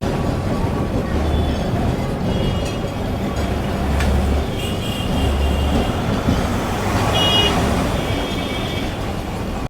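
A Kolkata tram runs from Shyambazar toward the Esplanade depot with a loud, continuous rumble and rattle of wheels on rails, low motor hum throughout and occasional higher squeals and clanks.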